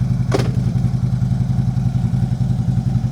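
A motorcycle engine idles in first gear just before take-off, a steady, loud, close chugging rumble with one brief higher click near the start.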